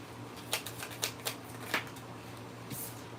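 A tarot card deck being shuffled at a live reading, giving soft, irregular riffling bursts that stay faint and close in a quiet room.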